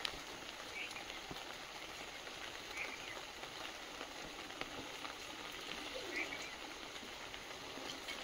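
Continuous rain falling on a garden: a faint, even hiss with no break, with doves cooing softly now and then in the background.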